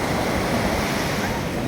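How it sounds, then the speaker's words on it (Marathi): Sea waves breaking at Varca beach in South Goa at sunset, a steady broadband wash of surf with wind rumble on the microphone, continuous and fairly loud with no distinct speech. "छान लाटा"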